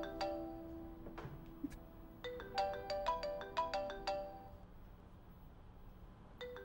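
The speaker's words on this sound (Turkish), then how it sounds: "Telefonu açmam lazım Yunsi." A melodic phone ringtone announces an incoming call during a game, a bright run of chiming notes in quick bursts after a few isolated tones, fading out with a final note near the end.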